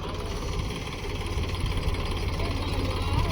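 A tractor engine runs at a steady idle in a muddy field after rain, its low, rough throb continuous and close throughout with no talk.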